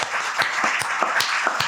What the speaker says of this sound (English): So I'm actually going to ask if we could give her a round of applause.